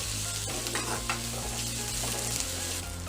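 Fenugreek seeds tempering in hot oil for a Tamil egg curry, a steady close sizzle and crackle of frying with stirring and occasional spoon scrapes throughout, no voices.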